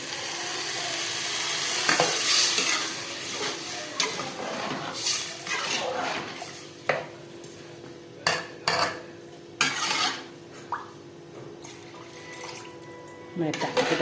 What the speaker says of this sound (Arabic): هنزل بالرز بتاعي.